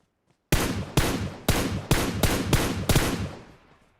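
Seven loud, sharp gunshots from a gun in a Godzilla video game fire in a quick, fairly even sequence, each with a short decaying tail, up close and alone.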